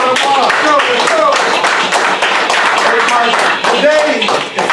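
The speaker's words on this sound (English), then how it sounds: "Give it a round of applause." Audience clapping and applause at a Feel Good Friday gathering, loud and steady across the whole stretch, with dense broadband claps and voices cheering and calling out over it.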